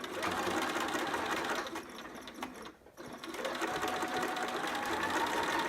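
A sewing machine back-stitching and then stitching forward along a half-inch seam on a pair of pants: a steady, close mechanical whir that dips briefly as it reverses and then resumes at full speed, with no talking.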